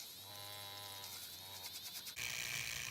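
Electric spin brush cleaner whirring under water, a thin motor whine that wavers and rises in pitch, then jumps to a louder, harsher buzzing spin partway through, heard close with no talking.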